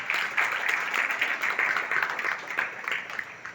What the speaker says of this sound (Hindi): शाबाश, ताली बजाएं इसके लिए।